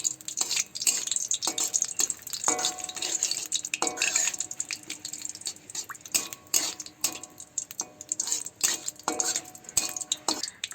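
Dried red chilies and bay leaves crackle in hot oil, heard as a light sizzle broken by frequent close clinks and scrapes of a utensil against the pan, with no talking.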